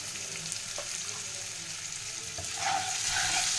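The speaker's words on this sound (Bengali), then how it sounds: "পেঁয়াজটা ফোড়নের সঙ্গে ভাজতে ভাজতে এর মধ্যে একটু পরিমাণ মতো নুন দিয়ে দেবো।" Sliced onions fry in oil with whole spices for a sweet-sour-spicy rohu fish curry, giving a steady broadband sizzle that swells louder near the end, with no talking.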